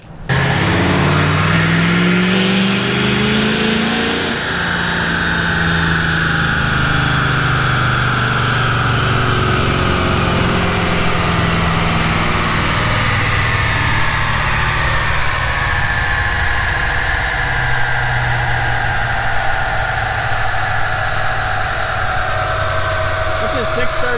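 A 6.7 Powerstroke diesel truck tuned to around 600 horsepower runs hard on a dyno, a loud, continuous engine roar that climbs in pitch through a long sustained pull.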